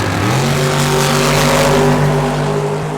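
Big-block drag cars at a drag race, a big-block Ford against a 632-cubic-inch big-block 1969 Nova, roaring loudly and steadily as a sustained engine drone.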